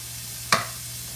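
A single sudden sizzling burst as tomatoes hit a hot frying pan for sautéing, close and brief, fading over a low steady background hum.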